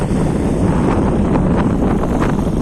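Steady cold wind buffets the microphone outdoors on farmland, a constant low rumbling roar with gusty swells throughout and no voices.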